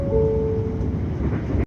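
A Siemens train terminating: a steady low rumble with a faint sustained tone rolls on for a moment, then cuts off abruptly into silence.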